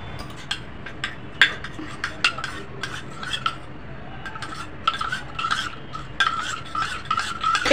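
Batter for gobi manchurian mixed in a bowl with a spoon: rapid irregular clinks and scraping rubs against the sides, close and fairly loud, growing busier toward the end.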